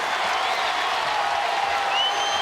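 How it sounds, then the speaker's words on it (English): A basketball arena crowd roars steadily through a Princeton vs Indiana NCAA women's tournament game, a dense, sustained wash of cheering and applause with no clear breaks. "listen to this crowd"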